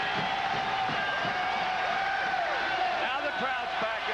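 Basketball arena crowd cheering during a South Carolina versus Florida State game, a steady roar of many voices with a play-by-play voice talking over it.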